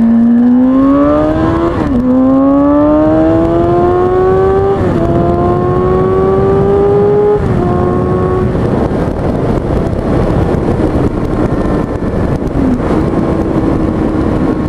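A Kawasaki Ninja 636 motorcycle revving hard through several gears, its loud engine whine rising and dropping at each shift under strong wind noise from a bumpy road, then settling into a steady drone.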